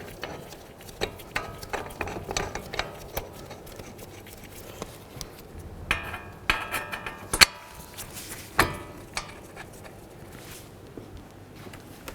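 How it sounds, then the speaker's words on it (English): A ratchet snugs up exhaust manifold mounting bolts on a 2009-2020 Dodge Journey. Scattered close mechanical clicks come in short bursts, with a couple of sharper metallic knocks and no talking. "Once they're both started, you can snug them up, and then we'll torque each of these to 125 foot-pounds."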